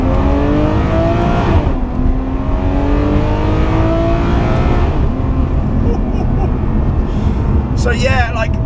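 The engine of a Ferrari 599 GTO booms and drops in pitch through downshifts, loud and close inside the cabin, while someone talks over the engine noise.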